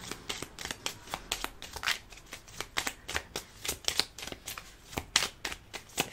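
Tarot cards being shuffled by hand, a rapid run of crisp riffling slaps and flutters repeating for several seconds, close and fairly loud, with no voices.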